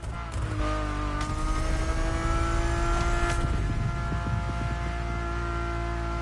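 Ferrari engine in The Crew Motorfest revving steadily from the cabin, a loud continuous harmonic drone with rising and falling pitch that sustains throughout with no voices.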